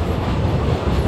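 Passenger train bound for Machu Picchu, heard from inside a carriage as a steady, loud low rumble of wheels on rails with faint rhythmic clatter.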